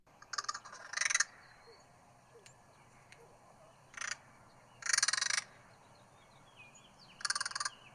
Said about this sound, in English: a crow making this sound